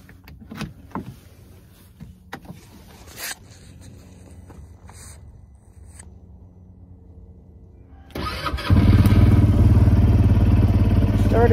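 A vehicle engine on a cold day at about 48°F: quiet clicks and clatter come first, then the engine starts near the end and settles into a loud, steady, close running roar.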